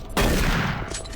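Gunfire in the video game Doom 3, a single loud, close, booming blast that hits sharply and then decays over about a second.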